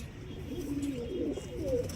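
Pigeons coo softly in a short run of low, throaty calls close by, over a faint background hum.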